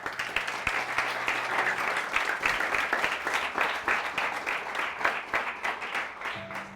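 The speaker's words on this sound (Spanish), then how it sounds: "¿Cuántos le dan un aplauso a Jesucristo?" A church congregation applauding during a sermon on forgiveness, a steady roar of many hands clapping at moderate distance that swells slightly near the end.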